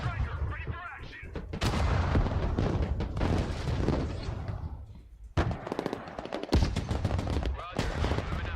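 Heavy gunfire and artillery from the military strategy game Broken Arrow, with loud, dense volleys and booming blasts rolling almost continuously, a brief lull, then renewed sharp bursts, with radio-style voices partly audible underneath.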